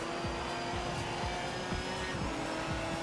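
Race car in a racing video game driving over bumps, a loud steady engine whine with tire noise and repeated thumping jolts every half second or so, no talk.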